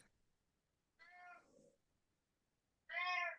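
A domestic cat meows twice nearby in a quiet room during a guided breathing meditation: a drawn-out call, then a louder, fuller meow about two seconds later.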